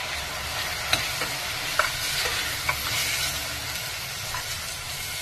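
Tomato with ginger-garlic paste frying and being stirred in a pan for vadakari, a steady sizzle with a few sharp spoon scrapes and clinks against the pan, close and alone with no talk.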